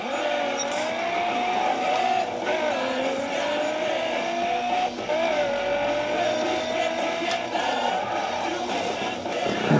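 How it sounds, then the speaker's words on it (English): A car engine in the video game The Crew revs continuously, pitch rising and falling with gear changes, accompanied by occasional tire squeals, loud and steady throughout. "Just listen to this engine"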